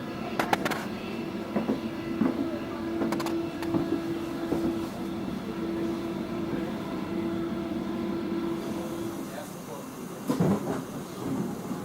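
Train arriving at Machen station, with a steady rumble, a sustained tonal whine and scattered clanks and clicks from the rail cars, while voices talk faintly in the background.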